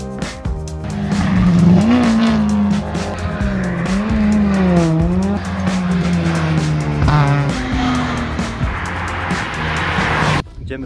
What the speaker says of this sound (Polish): Te auta sobie jeżdżą między polami, w takich ścieżkach krętych.